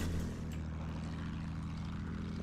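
Propeller airplane engine from the game Battlefield 1, a steady loud droning hum with low harmonic tones running throughout, heard alone without talk.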